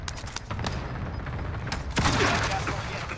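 Call of Duty: Modern Warfare gunfire cracks in scattered shots, with a heavier burst near the end, under players talking over voice chat.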